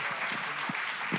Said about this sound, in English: Applause to this panel.